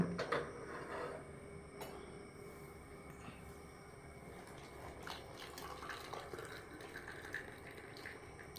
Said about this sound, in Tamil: இப்போ டீ எடுத்து ஆற்றி குடிக்க வேண்டியதான்